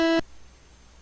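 Brief C64-style chiptune major chord from the OpenMPT tracker, a bright, buzzy synthetic tone with stacked harmonics lasting about a fifth of a second before cutting off into quiet hiss.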